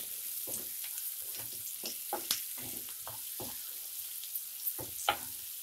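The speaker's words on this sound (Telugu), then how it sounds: "అవి కూడా వేద్దాం. వేగుతాయి." Crushed garlic cloves frying in a pan with turmeric for a potato and fenugreek leaf fry, a soft continuous sizzle with a series of light stirring scrapes and taps at moderate distance.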